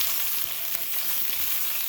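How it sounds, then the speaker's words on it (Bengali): Stuffed green chillies fry in oil in a hot wok, giving a steady, close, even sizzle that holds throughout with no voices. "আমি সব লঙ্কাগুলোকে পুর ভরে কড়াইতে তেল দিয়ে এই যে চাপিয়ে দিয়েছি"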